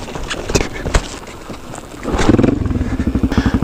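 A TT21 motorcycle is shifted into gear and pulls away, its engine note rising into a loud, rapid pulsing drone after a stretch of quieter idling and clatter.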